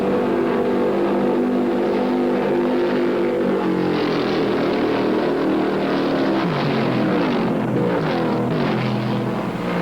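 NASCAR stock cars, including Cale Yarborough's Mercury, roar down the backstretch at the 1969 Southern 500, a loud continuous engine drone with shifting pitch as cars pass, nothing else heard over it.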